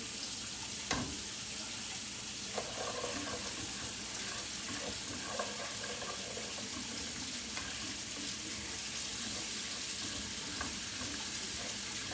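Hot water pours into a cooking pot on a kitchen stove, a steady hissing stream with faint clinks and sizzling underneath, continuous and fairly close with no voices.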